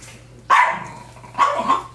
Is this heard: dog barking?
yes